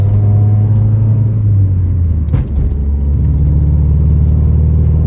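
A Honda Civic EK coupe with a misfiring engine drives at low RPM, giving a loud, close droning rumble inside the cabin with an uneven low hum, a brief bump or thud midway, then a slight rise in engine tone.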